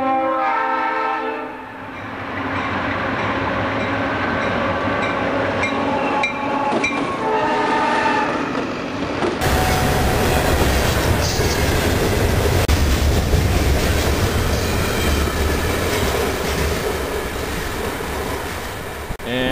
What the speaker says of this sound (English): the empty log train is going to be heading right past this location